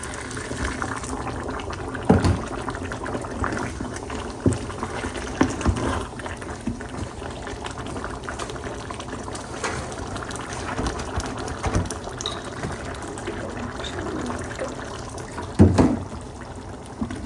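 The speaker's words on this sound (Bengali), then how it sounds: "এখন পানি দিয়ে দিই।" Water poured into a pot of biryani rice and meat, a sustained splashing, gurgling flow with occasional bumps and clanks, close and fairly loud throughout.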